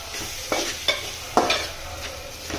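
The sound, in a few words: ginger garlic paste frying in oil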